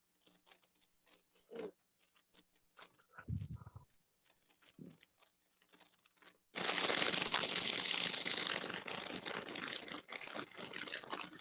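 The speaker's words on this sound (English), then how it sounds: "that's not me crumpling paper." Paper crumpling: a few faint rustles and low thumps at first, then a sudden, loud, sustained crinkling that fills the last five seconds up close.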